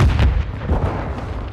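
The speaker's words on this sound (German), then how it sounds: "Werf eine Granate." A grenade blast in the video game Call of Duty: Modern Warfare II, heard as loud, heavy low booming bursts with a rumbling tail filling the short stretch, with no talking over it.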